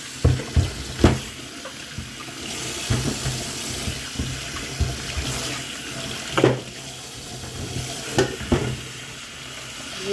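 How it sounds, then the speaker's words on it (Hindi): Ridge gourds rinsed under a running kitchen tap, a steady close splash of water with intermittent knocks and rubbing sounds as the vegetables are turned and handled over about ten seconds. "अच्छी तरह मैं धो लूँगी।"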